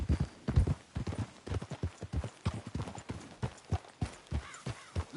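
Hooves clip-clop steadily in a quick, regular rhythm, fairly close and moderately loud, with an occasional faint whinny.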